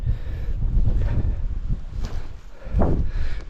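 Cold wind buffeting a microphone on a Lake District fell near Rossett Pike, with low gusty rumbles rising and falling and a few scuffing footstep-like bursts.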